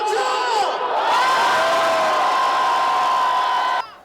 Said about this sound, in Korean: 마지막 힘을 모아서 함성!